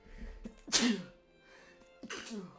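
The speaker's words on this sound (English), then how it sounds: "Oh, had to sneeze." A single loud sneeze close to the mic, a sharp explosive burst with a short breathy intake before it, then a second quieter exhale.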